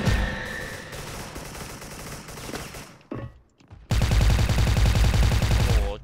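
A wood-pattern AK74 in the shooter game Special Force fires in dense rapid bursts, stops for a short gap, then opens up again in loud sustained automatic fire.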